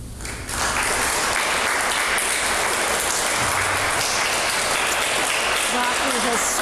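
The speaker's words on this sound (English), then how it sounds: "Rocky has stood up and is clapping" Audience clapping at a school graduation ceremony, a dense, loud, steady wash of applause that swells in right away and holds throughout, with faint voices mixed underneath.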